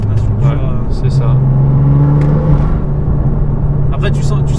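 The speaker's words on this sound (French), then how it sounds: "Après, tu sens que c'est un moteur turbo." BMW M2 with a turbocharged engine and automatic gearbox accelerating, a loud steady engine drone heard from inside the closed cabin, with people talking over it.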